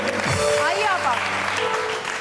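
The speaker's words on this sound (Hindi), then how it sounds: "तालियां" Audience applause for a guest on a studio TV show, dense clapping under a host's voice that speaks over it across the short stretch.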